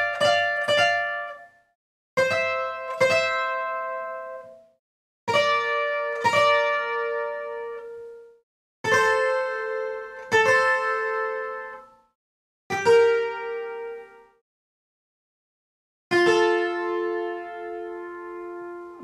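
Requinto guitar picking out a melody slowly, played alone: short clusters of two or three plucked notes separated by clear silences, each ringing and decaying.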